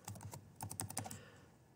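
Quick bursts of keystrokes on a computer keyboard, close and fairly faint, with a cluster of rapid taps trailing off after about a second.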